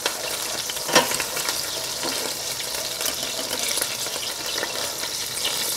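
Rabbit pieces frying in a pan for cacciatore, a continuous crackling sizzle with a sharper spit or stir near the start, alone with no talking.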